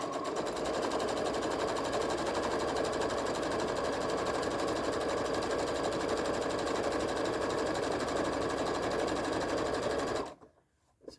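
A sewing machine runs steadily, stitching a mini tote bag with the needle held down, a loud continuous close-up whir that stops abruptly near the end.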